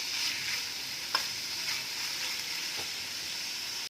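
Small chicken pieces frying in a pan for a Kabul roll, a steady soft sizzle with a couple of faint stirring clicks, close and continuous with no voices.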